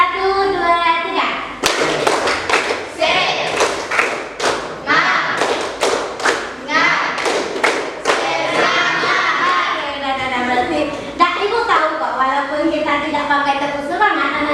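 A classroom of children claps a rhythmic spirit clap in short bursts of sharp, loud claps, mixed with young voices chanting and a teacher speaking.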